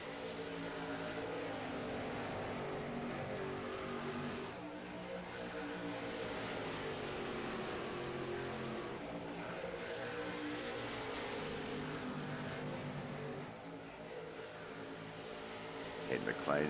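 Race cars in an iRacing sim heat race circle the track on the white flag laps, a steady continuous engine drone with layered overlapping harmonics, loud and unbroken throughout.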